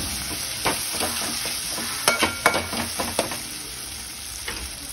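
Tomato sautéing in hot oil for an Agri-style dried-fish curry gives off a steady sizzle, with a handful of sharp spoon-scraping clicks clustered in the middle. No one talks.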